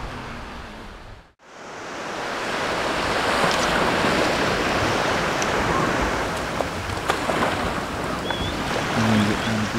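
Sea waves wash steadily onto a beach in a continuous, fairly loud roar that briefly drops out near the start, with no voices.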